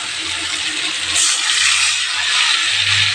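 Water pours into a pan of simmering fish curry with a bright, steady hiss and splash that swells midway and continues to the end.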